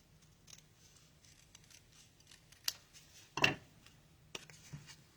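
Scissors snip through card for a handmade framed-scene greeting card, a few close, quiet crisp cuts with one louder slicing stroke, over a low background hum.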